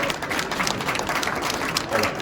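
Audience applauding at a crowded trade show, brisk continuous clapping from many hands for the whole stretch, fairly close and steady.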